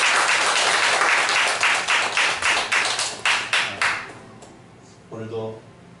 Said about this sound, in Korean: 우리 아버지 하나님의 영광을 박수 올려드립시다